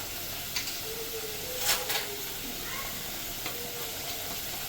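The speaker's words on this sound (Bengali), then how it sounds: "আলুটাও আমার ভাজা হয়ে গেছে। এবার আমি মশলাটা দিয়ে দেবো এর মধ্যে।" Potatoes fry in a pan for a katla fish and potato curry, with a constant close hiss and sizzle and a few brief clinks and stirring scrapes, and no talking.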